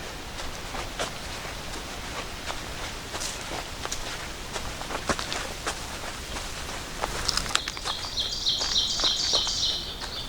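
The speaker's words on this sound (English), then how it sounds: "Just the birds. Sound of my feet walking on the trail." Footsteps crunch steadily along a hiking trail on the Appalachian Trail at Trents Hill, Pennsylvania, with birds chirping faintly, growing clearer toward the end.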